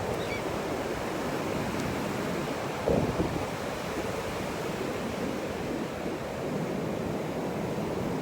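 Atlantic Ocean surf washing steadily onto a beach, a continuous broad roar of breaking waves with wind buffeting the microphone, holding level throughout with one brief louder gust near the middle.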